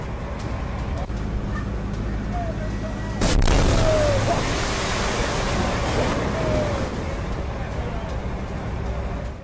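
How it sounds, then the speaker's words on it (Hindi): A large blast as an unexploded rocket goes off during an attempt to defuse it in Israel: one sudden loud burst partway through, followed by a long roaring rumble over steady outdoor noise. "लेकिन जब इसको डिफ्यूज करने की कोशिश की गई तभी होता है एक बड़ा धमाका।"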